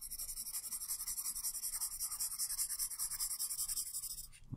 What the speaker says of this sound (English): I'm going to colour that in with my red pencil as well.